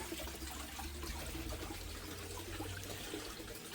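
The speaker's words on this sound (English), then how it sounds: "Okay, we're going to run this cleanup sluice here." Water rushes through a 13-foot home gold mining sluice used for cleanup, making a constant, faint, even wash of flowing water with no voices.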